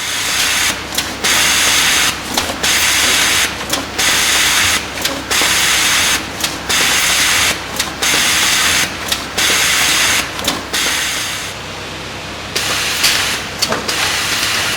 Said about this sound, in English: all you need to do is press run and the machine will start cycling automatically